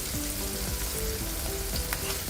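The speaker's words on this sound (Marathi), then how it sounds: "हे थोडं परतून घ्यायचं आहे, म्हणजे कच्चा वास घेतला जाईल." Chopped ginger, garlic and green chili sauté in butter in a pan for a street-style veg roll, giving a steady close sizzle with a few soft stirring scrapes and no talk.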